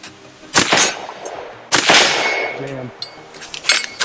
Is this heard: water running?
no